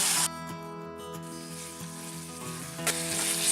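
Chicken pieces fry with red chili powder and garam masala in a pan, giving a steady close sizzle throughout, with a brief louder flare near the end.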